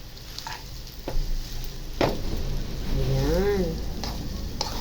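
Chinese yumien noodles with washed ingredients are stirred in a hot pan, giving a steady close sizzle with scraping strokes of the utensil and a few brief clatters, no talking.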